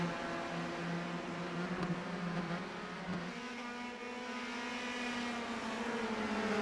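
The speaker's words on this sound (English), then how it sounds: "Now towards the back stretch, we got 3 cars all lined up." Race cars driving on a track in a Grand Prix of Alabama round, with three cars lined up, their engines droning steadily with shifting pitch as they pass, continuous and moderately loud.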